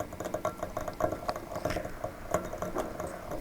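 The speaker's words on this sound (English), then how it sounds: "take it out of the boiling water" Water boils in a laboratory beaker with a leaf in it, giving soft, irregular bubbling pops and faint crackles at close range, quiet and without voices.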